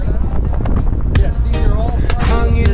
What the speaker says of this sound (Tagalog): Pero dahil sa sobrang lakas na ang hangin, halos din na rin namin siya marinig.